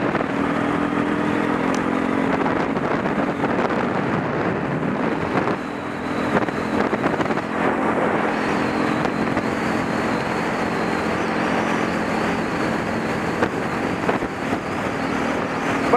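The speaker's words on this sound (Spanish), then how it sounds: "estoy probando los primeros metros de la moto Yataiga TXR250L" A Yataiga TXR250L motorcycle ridden on the road, its engine droning steadily under constant rushing wind noise for about sixteen seconds, with no talking.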